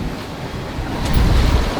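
Rushing water and wind noise as a sailboat cuts through ocean waves off the Dominican Republic, a steady wash swelling louder near the end, no voices.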